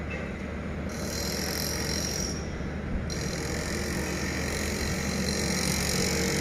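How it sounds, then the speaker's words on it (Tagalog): Fast cars pass along a dark roadside in a steady, loud wash of traffic roar and tyre noise, close by, with a brighter hiss rising and falling as vehicles go by. "Mabilis ang patakbo ng mga sasakyan dito."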